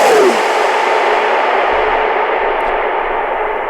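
Metalcore vocal track drenched in heavy reverb set to 46%, a loud sustained wash with a long smeared tail and no dry break, the effected voice blurring into a continuous roar.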